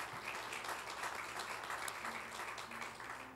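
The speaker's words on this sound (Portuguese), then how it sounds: "Uma salva de palmas para o nosso irmão." A church congregation claps for a brother after a sermon, steady applause at a moderate level with a low hum underneath and no talk.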